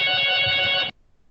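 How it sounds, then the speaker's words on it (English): A telephone rings with a loud, bright electronic trill for just under a second, then cuts off abruptly into near silence. "I have to attend the phone call."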